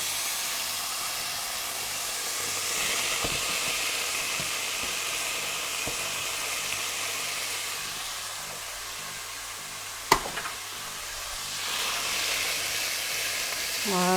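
Onions sizzle and fry in a hot pan with browned meat for jjajangmyun, a steady broadband hiss with a sharp clatter near the middle and stirring toward the end.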